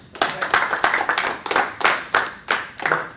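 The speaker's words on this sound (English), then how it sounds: "Please give Cam a round of applause." An audience applauds a speaker at a church-hosted talk, a steady burst of hand clapping in a hall that swells and pulses in uneven waves across the whole stretch, with no voices over it.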